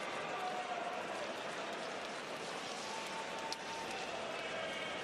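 Travelling Cardiff Devils supporters cheer a goal at an ice hockey arena, a dense, steady roar of crowd noise and applause filling the whole stretch without a break.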